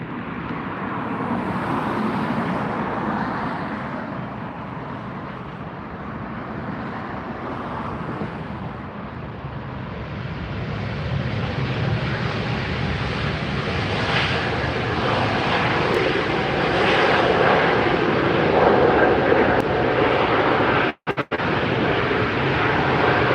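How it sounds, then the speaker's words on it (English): A Hawaiian Airlines A321neo on Flight 64 from Lihue lands at LAX, its broad engine roar growing steadily louder and fuller over about twenty seconds with no talk. "That is Hawaiian Airlines Flight 64 coming in from Lihui."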